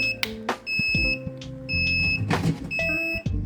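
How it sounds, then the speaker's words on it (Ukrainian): Several short electronic beeps at a high pitch sound one after another from a Best-55 egg incubator, close by, mixed with brief clicks and mechanical handling noises. "Так, а чого ж ти пищиш?"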